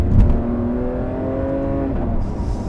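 Lamborghini Aventador Ultimae LP780-4 with its naturally aspirated V12 engine, loud and close, revving in a smooth rising harmonic howl that holds for a couple of seconds, then drops off with a burble.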